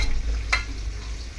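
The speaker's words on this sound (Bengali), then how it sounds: "মাছের ঝোল একটু খুন্তি দিয়ে এরকম নাড়াচাড়া করে নেব।" Fish and eggplant curry stirred with a spatula in a pan: a low simmering sizzle with one quick, sharp scrape midway, close and brief.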